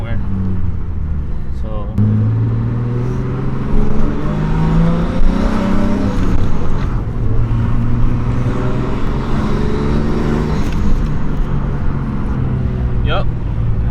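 A Nissan S13 with an RB engine and a boost leak runs steadily throughout, with a low droning engine note and slight swells in pitch under near, continuous talking.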